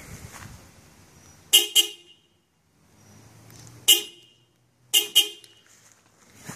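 Upgraded car horn on a 2015 Suzuki Swift honking in three loud double blasts, each pair of short toots separated by pauses, close to the microphone with faint background noise between.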